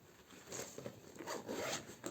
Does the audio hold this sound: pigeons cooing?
no